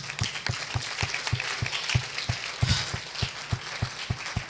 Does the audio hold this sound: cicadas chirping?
no